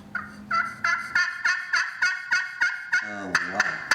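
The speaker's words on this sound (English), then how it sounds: "when I pulled out the old Black Widow, they gobbled back" A vintage Black Widow turkey call produces a rapid, rhythmic run of high, raspy yelps, loud and close, ending in a faster burst of notes.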